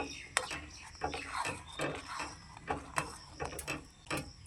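A spoon clinks and scrapes against a pot while sugar is stirred into milk for mango kheer, with quiet, irregular metallic taps and rattles at close range.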